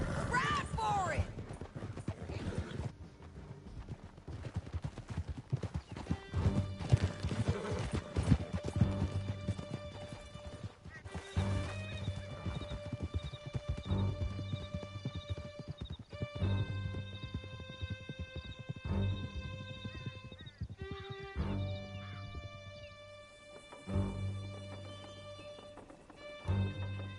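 Horses gallop hard through a canyon in Red Dead Redemption 2, clip-clop hoofbeats drumming steadily under music, with occasional whinnies and shouted talk over the ride.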